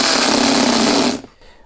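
A hole saw spinning in reverse, against its teeth, scores a groove in an old camera lens. It makes a loud, harsh grinding whir that runs steadily and then cuts off abruptly.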